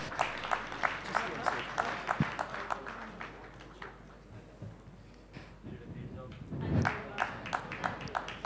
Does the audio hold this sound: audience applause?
yes